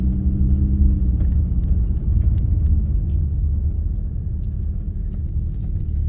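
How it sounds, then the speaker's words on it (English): A truck with a strange noise rolling down the road, a steady low rumble from engine and tires heard from inside the cab, with no speech. "My truck making the noise, so I'm trying to see if it's the tire or why it was making that noise."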